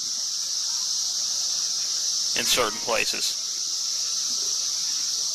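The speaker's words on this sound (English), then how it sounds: "The cicadas are out now. They are. You can hear them in the down background." A loud, steady, high-pitched drone of cicadas fills the outdoor background at a soap box derby in Norwalk, continuous throughout while someone speaks briefly over it.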